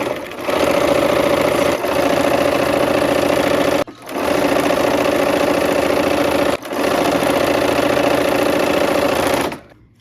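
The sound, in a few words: sewing machine stitching a scant quarter inch seam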